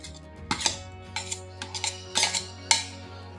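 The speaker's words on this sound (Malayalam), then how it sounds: "ഇത് നന്നായിട്ട് ഇളക്കി കൊടുക്കണം" Mango ice cream mixture made with eggs being stirred in a bowl, a utensil scraping and clinking against the sides in several uneven bursts, close by with no talk.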